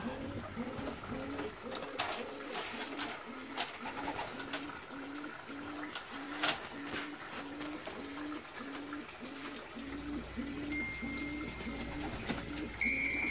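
A breeding female dove or pigeon-type bird in a bird-keeping setting gives a steady, rhythmic series of soft cooing calls, close by, with faint background clicks and noise.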